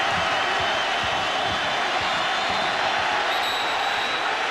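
A packed stadium crowd roars steadily at a Louisville versus Memphis college football game, a dense, continuous wash of distant voices and cheering with no clear breaks.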